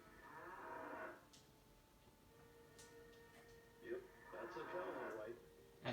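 Cows mooing in Diablo 1 when clicked, low drawn-out bovine calls in two bursts with faint game ticks between, moderately close and alone without talk.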